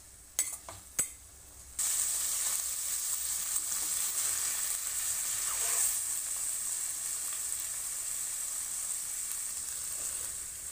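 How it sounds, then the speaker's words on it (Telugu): Paneer and chole ingredients hit hot oil in a pan for a butter masala curry, a few light clinks of a utensil, then a sudden steady loud sizzle that continues evenly, with occasional stirring scrapes. "ఇలా మనం ఫ్రై చేసుకుందాం."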